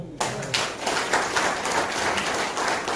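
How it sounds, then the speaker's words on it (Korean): A church audience at a sermon breaks into loud, sustained applause, dense clapping that continues evenly throughout. "마지막 박수 한번 쳐보세요"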